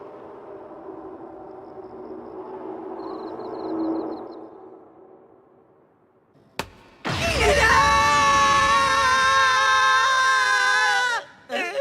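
A person lets out a loud, sustained scream after a quieter stretch of indistinct voices, the cry breaking off abruptly near the end, in an animated scene.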